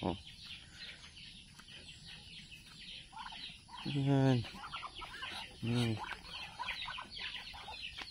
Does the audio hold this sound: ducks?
yes